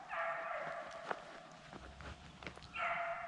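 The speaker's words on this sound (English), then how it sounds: "That's that puppy barking." A hunting puppy yips and barks a few times at a distance during a deer hunt, mixed with shuffling movement and faint high-pitched whines.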